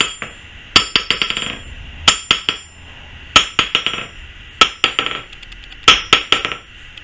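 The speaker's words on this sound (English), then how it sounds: "So my old anvil rings and bounces" A hammer strikes an anvil in repeated groups of bright, ringing blows. Each group opens with a hard hit followed by quicker bouncing taps, loud and close, with no voices.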